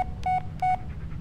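Two short electronic phone beeps announce incoming voicemail in the horror game Blair Witch, evenly spaced and clear over a quiet low background hum.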